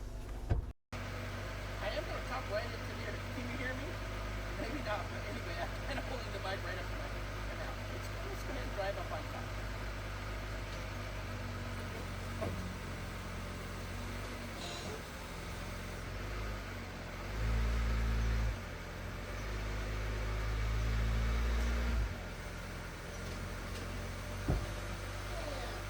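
A camper van on an AWD 4x4 Promaster or Sprinter chassis has its engine running as it drives up onto levelers, a steady low engine hum with a few brief rises in pitch, fairly muffled and heard without nearby talk.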